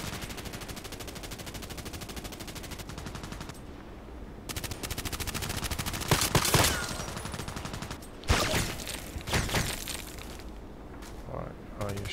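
Sustained machine-gun bursts rattle in rapid, dense volleys in a video game match, with louder single shots and cracks punctuating the firing, which pauses briefly before resuming.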